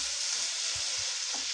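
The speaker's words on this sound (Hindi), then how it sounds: "एक मिनट के लिए मैं भून लूंगी थोड़ा सा।" Chappan kaddu (summer squash) sabji sizzling steadily in a hot pan, a dense hiss with soft low thumps of stirring every fraction of a second.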